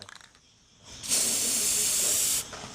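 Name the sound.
spray hissing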